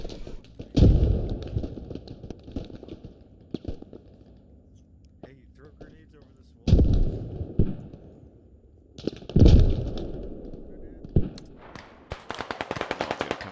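Grenade launcher fire in the video game Squad, USA versus Insurgents: several loud, heavy blasts land at irregular intervals amid scattered gunshots and a rattling burst near the end, with voices talking in between.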